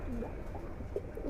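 A giribaz pigeon in a loft gives soft, low coos while being held and handled, faint and close against a steady background hum.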